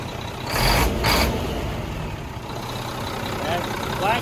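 Mack truck with a 300 engine rumbles close by, its diesel note swelling in two quick revs before settling back to a steady idle under a broadband engine roar.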